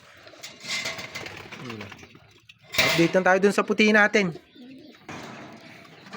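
A pigeon coos in short, repeated bursts, fairly close, with people talking before and after.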